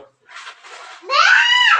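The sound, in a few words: children screaming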